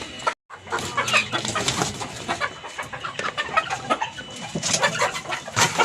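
A flock of chickens clucking and calling over one another, a dense, continuous farmyard chatter close by, with no voices.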